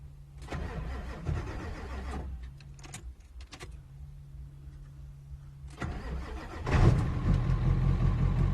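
An old truck engine cranks and sputters for a couple of seconds, falls back to a low hum, then cranks again and catches into a rough, steady running rumble.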